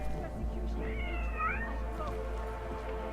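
Cat meowing in the Deus Ex: Mankind Divided video game, a single drawn-out, rising and falling meow heard fairly close over a low steady hum.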